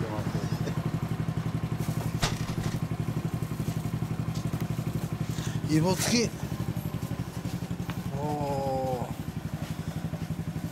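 A 2014 Suzuki GSX1300R Hayabusa idles nearby with a steady, throbbing engine pulse, while people talk briefly over it and a short blip of revs rises near the end.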